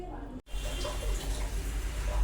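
Fish are swished and rinsed in water to clear away sand, giving a steady close sloshing and splashing that follows a brief silent gap near the start.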